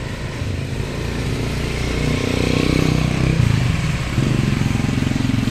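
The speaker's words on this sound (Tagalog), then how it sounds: "Ang dala po naming motor ay yung aking motor" A motorcycle engine runs steadily at close range, its low rumble rising slightly as it revs, with a rough mechanical clatter throughout.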